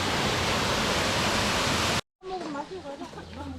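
A small waterfall in a mountain valley stream in Yeongwol, Gangwon, roars as a loud, steady rush of water for two seconds, then cuts off abruptly; quieter water follows beneath nearby voices talking.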